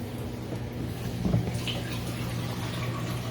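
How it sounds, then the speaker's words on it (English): A Laundry Alternative Poseidon washer's drain pump pushes water out, a steady low motor hum with running, gurgling liquid that continues evenly and fairly quietly. "A drain pump will pump all the water out of the washer."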